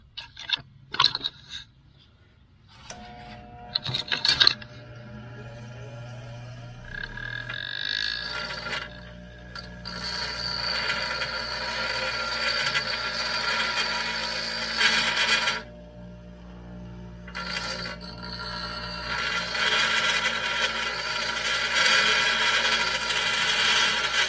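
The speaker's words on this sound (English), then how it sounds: "We're going to grind it down a little bit to just flatten it out." A steel chisel is ground flat on a power grinder, a loud sustained whine with scraping bursts that runs steadily with brief breaks and no talking, while building an automatic post pounder attachment.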